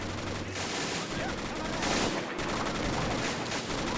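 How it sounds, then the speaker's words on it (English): Auto cannon fire in a World War II battle in the game Men of War: Assault Squad 2, bursts of rapid gunfire with loud blasts among ongoing battlefield noise. "I hear a little auto cannon."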